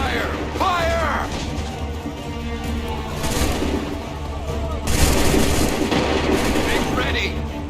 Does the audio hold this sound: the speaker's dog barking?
no